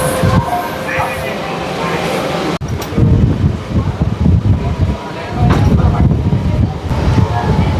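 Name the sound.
Panvel–Thane slow local train departing Kharghar railway station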